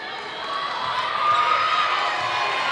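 Steady roar of a crowd filling a gym during a girls' varsity volleyball match, loud and continuous, swelling slightly toward the middle with a few ball bounces and shouts mixed into the din.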